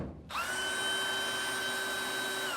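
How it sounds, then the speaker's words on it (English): A power drill starts up and runs at a steady high whine while boring a hole in a shelf, loud and close with no talk over it. "Find the shelf that you want to hang this on. Drill a hole."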